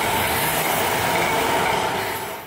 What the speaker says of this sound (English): There we can find tram, the sound of tram.